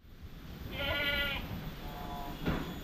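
A goat on a goat farm gives a quavering bleat, then a second, fainter bleat follows, quiet and at a moderate distance.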